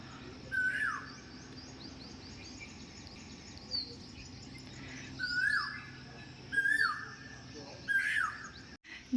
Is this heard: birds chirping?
yes